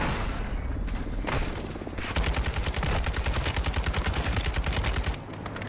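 A light machine gun fires a long, sustained automatic burst at close range in Call of Duty: Modern Warfare II, with rapid, evenly spaced shots following a few scattered earlier rounds.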